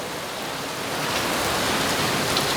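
Heavy, furious rainstorm pouring down, a broad steady roar of rain that swells slightly louder partway through and stays close and unbroken.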